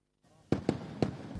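Thrissur Pooram festival fireworks go off in Kerala, with three sharp, booming blasts in quick succession over a low background rumble, fairly distant and fading away.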